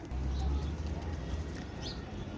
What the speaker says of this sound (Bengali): এটা হচ্ছে কাশরি কবুতর দেখেন